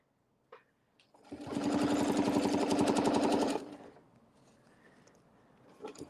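A sewing machine stitches across a quilt panel in one steady, close burst of about two seconds, its rapid needle rhythm loud and even before it stops, with a few soft handling clicks around it.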